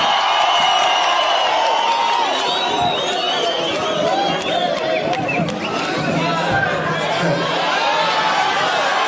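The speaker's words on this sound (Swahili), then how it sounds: "Mpigeni makofi." A dense rally crowd in Kimilili, Kenya fills the whole stretch with continuous cheering, whoops and applause, a loud, steady wall of noise with no pause.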